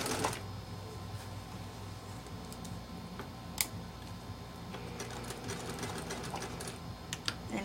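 A sewing machine stitches an armhole seam to the lining, running steadily at close range with a fast continuous mechanical whir and occasional sharper clicks.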